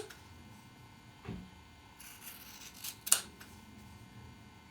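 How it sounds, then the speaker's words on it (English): Scissors snip along the edges of freezer paper pressed onto quilting fabric, a few quiet crisp cuts and rustles spaced over several seconds, with one sharper snip near the end. "I'm going to just cut along the edges of the freezer paper."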